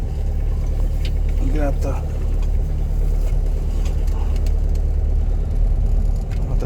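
A Toyota car with no power steering rumbles along with a steady low engine and road drone throughout, while a person talks briefly over it.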